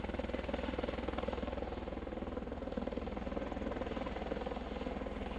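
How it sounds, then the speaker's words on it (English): A Vanderbilt LifeFlight Eurocopter helicopter approaches at a medical center, its rotor producing a steady, rapid low thumping beneath a broad engine whine that holds fairly constant throughout. "here comes Vanderbilt's LifeFlight's new helicopter"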